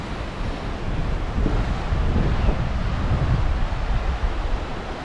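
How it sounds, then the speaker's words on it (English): Sea waves and wind on the coast at Eyemouth, a loud, steady roar of surf and gusting air buffeting the microphone, continuous throughout with no voices. "but look at that sea over there now"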